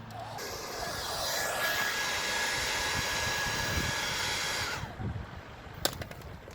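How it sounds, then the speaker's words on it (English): A heat gun blows a steady, loud rushing whoosh across a vinyl wrap laid over a car bonnet, shrinking the stretched film back to size; the blast runs about five seconds, then cuts off, leaving quiet handling noises and a sharp tap. "heat it up to bring it back to its original size"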